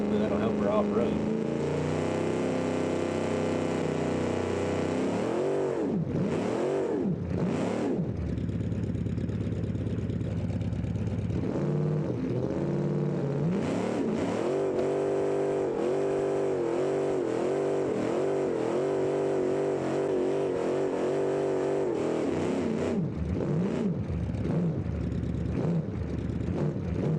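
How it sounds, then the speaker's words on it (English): A car engine revs hard and steadily through a burnout, the tone rising and wavering over a loud sustained roar with brief surges, continuing for the whole stretch. "Burnout."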